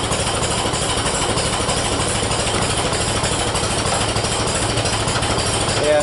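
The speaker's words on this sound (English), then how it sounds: "I'll let it warm up for a little bit and see what happens to the oil pressure." A 1948 Co-op tractor engine idles as it warms up, a loud, continuous rough rumble with a steady, chugging pulse up close that holds evenly throughout.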